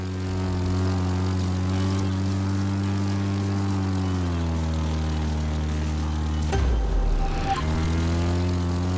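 A propeller plane in The Crew 2 video game gives a steady, droning engine hum whose pitch dips midway through the flight, followed by a brief rushing burst near the end.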